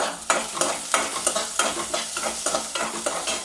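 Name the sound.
onion sauteing in a pan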